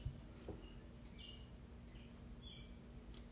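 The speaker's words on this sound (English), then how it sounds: "The birds are chirping," Birds chirp outdoors in short, faint, scattered calls over a steady low background hum, with a few distinct tweets standing out briefly.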